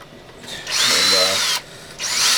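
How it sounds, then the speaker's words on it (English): A power drill with a 9/32 inch bit bores a hole for a T-nut, a single burst of high whirring that spins up, holds for about a second, then cuts off and briefly restarts. "Now I'm going to drill the hole for the T-nut for the leg lever"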